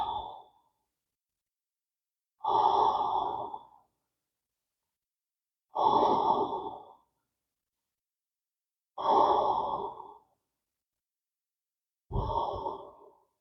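Slow, deep breaths during a chair yoga leg stretch come in four long exhales and a shorter fifth, evenly spaced with quiet pauses between, close and clear without talk.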